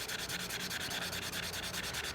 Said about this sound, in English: You would just have to start and keep your sanding going the same way